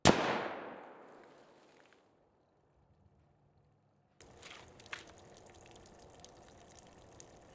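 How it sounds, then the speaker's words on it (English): A single loud, close .22-250 rifle shot firing a Hornady 50 gr GMX bullet cracks out and decays over about two seconds. A brief quiet follows, then muffled handling and movement noise outdoors. "So let's shoot the barrel and see what happens with this bullet."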